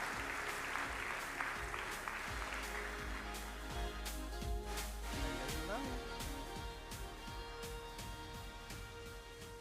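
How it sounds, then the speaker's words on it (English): Large-audience applause at a university freshman convocation, continuous clapping with scattered louder claps and a few shouts or cheers, holding steady for nearly ten seconds with voices audible beneath. "let's clap it up for them"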